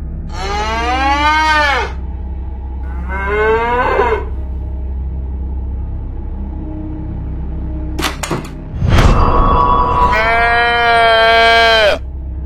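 Cow moos from the Sakura School Simulator video game, three long drawn-out lowing calls with a brief clatter between the second and third, loud and close over steady background hum.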